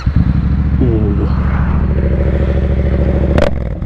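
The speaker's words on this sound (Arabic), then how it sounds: "دابا نقلعو الموتور ونربو به دويرة" A Yamaha MT-07 motorcycle engine turns over and settles into a steady, loud idle close by, with a brief rising rev near the end.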